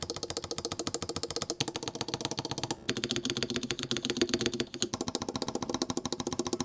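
Fast, steady mechanical keystrokes on a custom ROG Azoth mechanical keyboard, rattling along in a dense unbroken rhythm with two brief pauses, close and clear with no voices.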